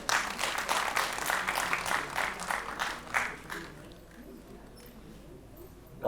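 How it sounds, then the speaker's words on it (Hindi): An audience claps at a staged Dhanush Bhang play performance, a burst of dense, rhythmic clapping that pulses strongly for a few seconds before thinning and fading to a quiet room. "एक बार तालियां अच्छे से बजाती है।"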